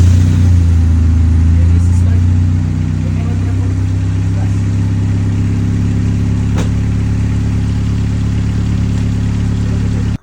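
A Honda Civic engine starts up after a timing belt and water pump replacement, then settles into a steady, loud idle with a continuous low hum throughout.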